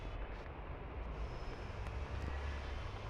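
A helicopter in the video game Granny Chapter 2 gives off a steady, loud broadband rumble that stays constant throughout, with no talking.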